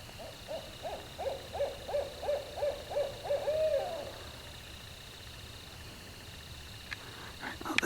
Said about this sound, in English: there's some cool owl audio for you guys